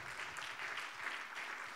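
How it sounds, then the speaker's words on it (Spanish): A church congregation applauds, a faint, distant wash of many hands clapping steadily for under two seconds. "Si le va a dar ese aplauso"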